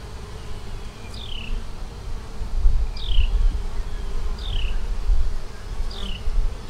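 Honey bees swarm over a frame from a five-frame deep hive, a dense low buzzing drone heard up close, with a few short high chirps recurring every second or so in the background.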